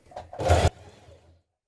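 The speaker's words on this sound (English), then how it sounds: "Now top stitch your seam down onto your band." Sewing machine top stitching a seam onto a shirt band, a single short burst of whirring stitching, close and fairly quiet, that stops abruptly and is followed by a faint fading mechanical hum.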